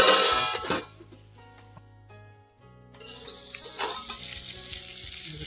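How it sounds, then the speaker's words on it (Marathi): Stuffed brinjals frying in oil in a village kitchen, a steady broadband sizzle that is loud at first with a sharp burst, dips quieter, then rises to a continuous hiss again. "तेल सुटलं आता भाजा बरं वांगे।"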